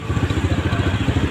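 A 2015 motorcycle engine runs close by, chugging with a steady, rapid pulsing rhythm at a moderate level, its throbbing low rumble alone without any voices.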